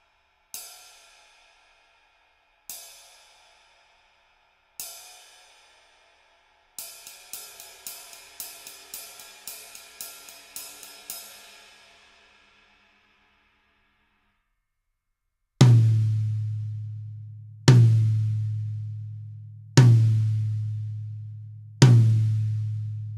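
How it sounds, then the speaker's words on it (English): Vic Firth 5BN nylon tip drumsticks striking cymbals and drums: three bright cymbal hits, a quick ride-like run of repeated pings, then four deep booming drum strokes, each ringing out, close and clear with no talking. "This is a Vic Firth 5BN, and on the cymbals and drums, it's gonna sound like this."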